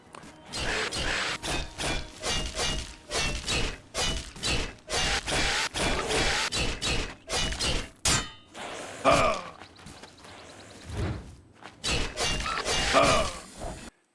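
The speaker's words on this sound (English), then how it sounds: "He's using a glass longsword, and he just demonstrated that it took him 23 hits to kill a skeleton hero." A glass longsword strikes a skeleton hero over and over in the game Oblivion, a long run of sharp clanging hits with brief gaps, steady and fairly loud, with no talk.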